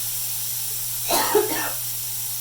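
A single short cough bursts out once in a quiet room with a low steady hum behind it, close to the microphone and over in under a second.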